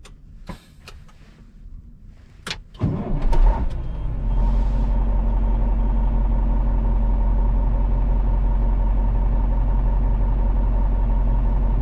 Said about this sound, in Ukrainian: Далі запускаємо з вами двигун автомобіля.